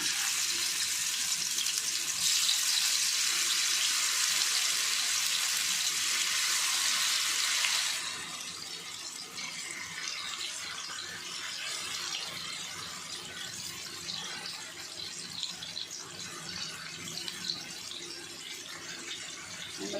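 Fish pieces dropped into hot oil on a low flame for fish pickle, a loud hissing sizzle for several seconds that then settles into a softer, steady crackle.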